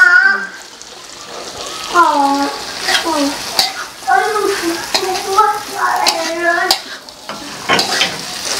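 Beef intestines stir-fried with black pepper and green beans in a hot pan, with continuous sizzling and scraping stirs throughout and someone speaking over the cooking.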